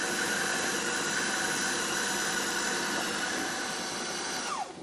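An electric moulinette food chopper whirs steadily while chopping onion, a loud continuous motor whine with a high squeal that holds for several seconds, then drops off at the end.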